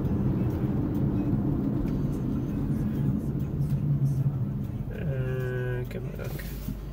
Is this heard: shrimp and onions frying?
no